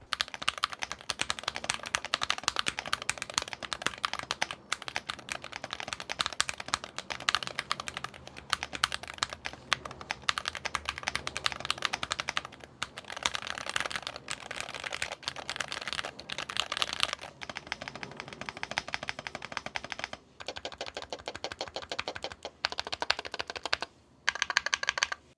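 Typing on a Syntech Chronos 68 gaming keyboard with hollow-sounding switches, a dense, steady stream of close, loud keystroke clatter running continuously with brief pauses and no talking.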